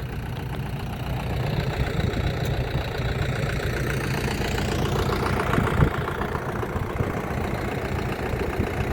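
A Skaut TV-904 S minitractor's engine runs steadily with a low, throbbing mechanical drone and faint knocking rhythm, close and continuous throughout.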